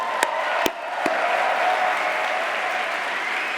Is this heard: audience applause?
yes